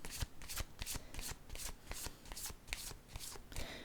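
Cards being shuffled during a card reading, a quick regular series of crisp riffling snaps, close and fairly quiet, with no talk over them.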